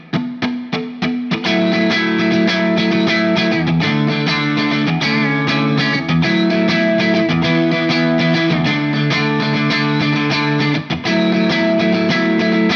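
Distorted electric guitar plays a chord from a song, beginning with a few sharp muted strums and moving into steady, loud, rhythmic strumming of ringing chords for over ten seconds, with no talking.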